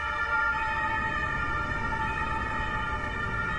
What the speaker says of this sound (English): The sirens faded away in the distance.